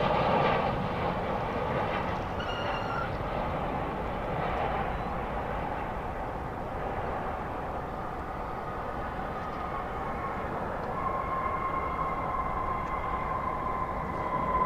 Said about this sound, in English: watch an American Airlines flight coming from Mexico City.